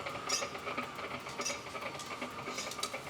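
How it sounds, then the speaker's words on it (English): Loose parts on the motor of an electric Jeep being run in reverse give off a steady, busy rattling and clattering, fairly faint and continuous, with no talking. "We've got things loose on the motor, just FYI. That's some of the noise you hear."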